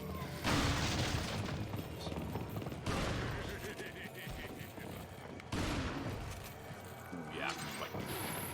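Shotgun blasts in the survival-horror game Resident Evil 4: three loud, booming shots spaced a few seconds apart, each with a ringing tail, with someone talking quietly between them.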